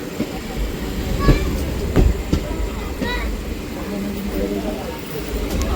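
A Konkan Railway train arriving at Ratnagiri station in light rain rumbles and clatters steadily with a low mechanical drone, metallic squeals and clanks breaking through, while people talk nearby.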